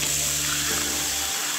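Water pours steadily into a cooking pot for duck and chicken soup, a continuous loud gushing stream close by that stops abruptly near the end.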